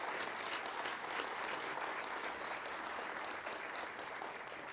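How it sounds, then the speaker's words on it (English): Steady applause from a crowd gathered outdoors for a Pride flag raising in Wakefield, dense even clapping at moderate distance lasting several seconds, no voices on top. "Big round of applause."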